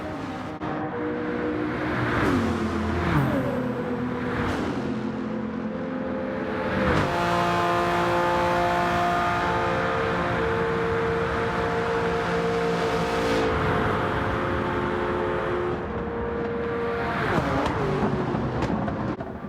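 A race car in Gran Turismo 7 driven hard around a track, engine revs climbing and dropping through repeated gear shifts with brief tire squeals and passing sounds, loud and continuous, no talk.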